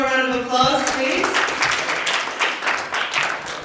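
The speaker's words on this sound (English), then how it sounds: "So let's give Kurasa, William, one more round of applause, please." An audience at a tech-for-education event in Kenya breaks into steady applause, a dense wash of clapping that follows the end of a speaking voice and carries on evenly.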